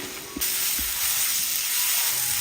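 Ground masala frying in a pan on a low flame while being stirred, a steady soft sizzle and hiss with a couple of faint low knocks near the start, close and continuous.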